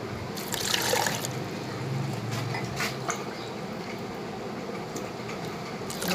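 Water pours and trickles into a jug, a gurgling splash at first settling into a softer, steady flow, close by.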